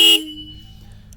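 A Royal Enfield Classic 350 motorcycle fitted with a likely Minda horn gives one short, loud, bright honk that stops abruptly and leaves a faint idling rumble.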